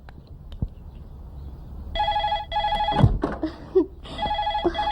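A telephone rings in bursts of bright electronic trilling, two long rings followed by a broken pattern of shorter ones, loud and close after a moment of faint room noise and a few knocks.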